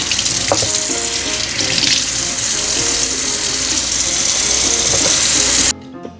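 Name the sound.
tap water running, washing hands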